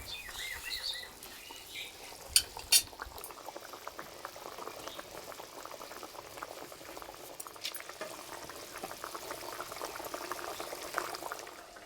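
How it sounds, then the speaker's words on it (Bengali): Fish curry broth bubbling at a steady boil in a pan, a continuous close, busy gurgle with a couple of sharper clinks near the start and no voices. "ঝোল ফুটে গেছে"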